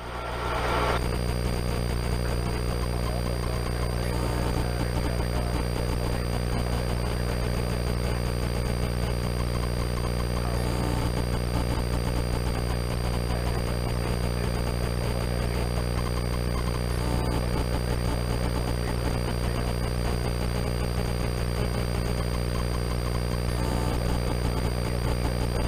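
Engine on a dynamometer held under load through a slow pull, a steady loud drone with strong low harmonics that holds evenly throughout, with no talk over it.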